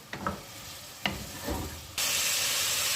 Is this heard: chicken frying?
yes